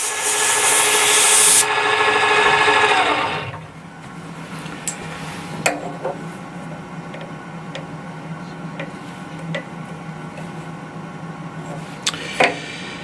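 A lathe turns down a part on a mandrel for a compact power hacksaw's drive collet, giving a loud grinding cut for a few seconds that then drops to a quieter running whir with scattered clicks and taps.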